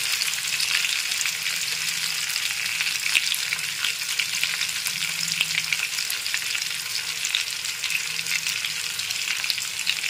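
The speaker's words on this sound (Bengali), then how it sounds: "এখন একটু নেড়ে চেড়ে ভেজে নিচ্ছি" Onion with a little salt, then capsicum, frying in a pan for restaurant-style chilli chicken, a loud continuous sizzle with faint stirring scrapes throughout.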